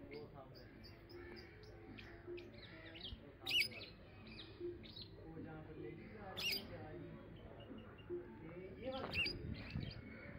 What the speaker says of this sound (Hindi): तोते भी बैठे हैं ऊपर।